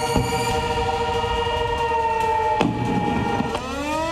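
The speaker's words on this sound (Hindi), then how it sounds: "यह है जंगी सायरन जो इस वक्त पाकिस्तान की फिजाओं में गूंज रहे हैं।" A war siren sounds in Pakistan with a loud, sustained multi-tone wail, its pitch sliding down and back up a couple of times.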